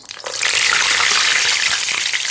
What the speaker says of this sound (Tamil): இதை வந்து இப்ப நம்ம காயிற எண்ணெயில போட்டுருவோம்